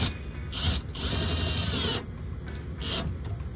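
Small screws driven with a power drill into a plate while installing a motorcycle biker bar, heard as a few short whirring bursts with brief pauses between them.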